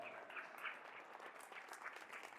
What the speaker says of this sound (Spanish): Denle fuerte aplauso a Cristo.